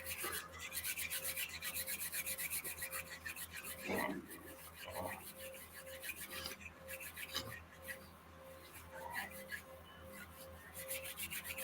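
Hands rubbing together during a hypnosis and magnetism session make a continuous close, dry swishing friction with a faint steady tone underneath and no voices.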